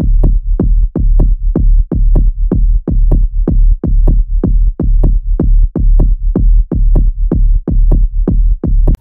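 Layered tech house bass with saturation and an EQ filter, a loud pumping low synth pulse repeating in a fast steady rhythm with short gaps between hits.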